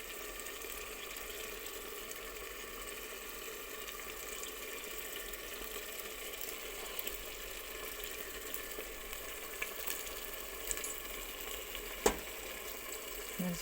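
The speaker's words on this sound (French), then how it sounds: "Là, ce que je vais faire, je vais rajouter ma viande hachée." Minced meat fries in a pan for stuffed conchiglioni, giving a soft, steady sizzle with a few faint clicks and ticks, quiet and continuous with no voices.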